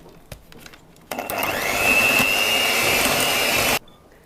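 An electric mixer whirs steadily for about two and a half seconds as it beats sweet chickpea-flour cookie dough with oil and rosewater, starting abruptly and cutting off cleanly, with a faint high whine over the motor hum.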